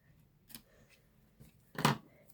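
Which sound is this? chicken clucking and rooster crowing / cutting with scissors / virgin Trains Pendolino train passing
cutting with scissors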